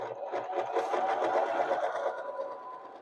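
A sewing machine stitches the folded hem of a pillowcase, its needle running in a fast, even mechanical whir that is close and steady throughout, with no talking.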